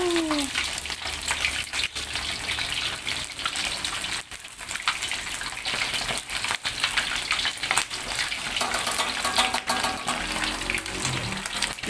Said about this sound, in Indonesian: Jadi biar ikannya nggak meletup karena kita tutupin pakai penutup panci seperti ini